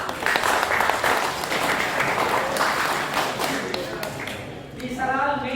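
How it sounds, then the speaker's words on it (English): An audience in a lecture hall claps loudly and steadily for several seconds, the applause fading near the end as a voice begins speaking. "Give him a big clap."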